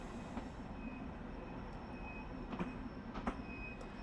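A Long Island Rail Road train in a train simulator game rolls into a platform with a steady rumble, faint wheel squeal and occasional sharp clicks.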